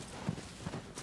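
Horse hooves clip-clopping in the video game Shadow of the Colossus, two or three soft hoofbeats at a walking pace, faint and fairly close, with no talking.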